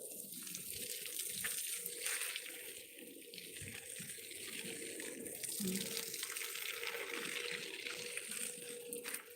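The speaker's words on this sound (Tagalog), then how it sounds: "pasiritan pa rin natin ng tubig" Water hisses and splashes steadily from a garden hose watering plants, a continuous spray with faint background sounds.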